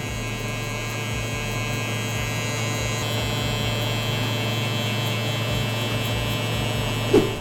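An electric hair clipper buzzes steadily and loudly for the whole stretch of a barber's drop fade haircut, with one brief knock just before the end.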